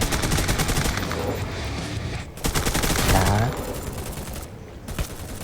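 Gunfire in the mobile battle game Free Fire, with dense overlapping bursts of rapid shots from a powerful gun that run loud and continuous for several seconds, broken by brief pauses, with game effects layered over it.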